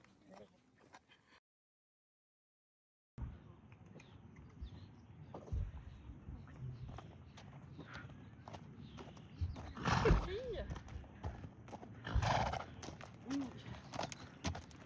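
A mare on a show-jumping course in a free-cycle competition round snorts and whinnies while her hooves thud and clop close by. Voices are heard in the background, and there is a brief silent gap early on.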